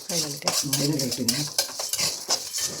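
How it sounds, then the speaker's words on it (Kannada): Chana dal and urad dal dry-roasting in a pan on a red flame, stirred with a utensil that scrapes and clinks against the metal in a steady rhythm, with a faint sizzle and a voice speaking over it. "ಕಡಲೆಬೇಳೆ, ಉದ್ದಿನಬೇಳೆ, ಇದು ಕೆಂಪಾಗೋವರೆಗೂ ಹುರಿಬೇಕಲ್ವಾ?"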